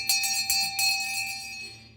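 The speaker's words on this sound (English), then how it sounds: "we might ring the bell at the beginning of the service" A church bell rung at the start of a service, with several bright metallic strikes in quick succession and then a sustained ringing tone that slowly fades out, close and alone.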